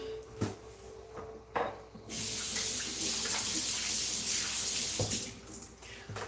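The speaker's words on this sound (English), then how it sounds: "let me go wash my hands again" Tap water runs steadily into a sink during handwashing, a loud continuous splashing stream that begins after a couple of clicks and knocks, with a few more thuds near the end.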